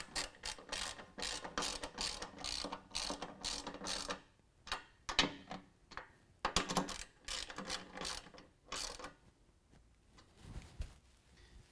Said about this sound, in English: we're going to use a 13mm and tighten up our flange nuts